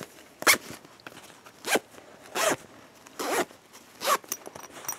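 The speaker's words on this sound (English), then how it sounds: "Put the zipper on." A zipper on a small fabric pouch is pulled in five quick, separate rasping strokes, close and crisp, with short quiet gaps between them.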